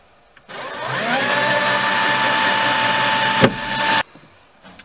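A power drill whirs up to speed and runs steadily for about three and a half seconds, then cuts off abruptly, loud and close.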